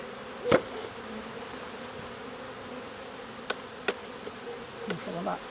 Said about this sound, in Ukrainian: Так як тут бджола вся льотна, то я її не боюся струшувати просто з корпуса.